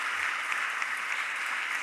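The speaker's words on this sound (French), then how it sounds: "Applaudissons-les" Audience applause at an international conference on cities in France, a dense, even burst of clapping that holds steady and alone for about two seconds.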